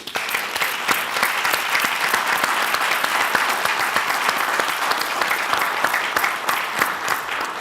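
An audience claps steadily and enthusiastically throughout, a dense patter of many hands with no voices breaking through.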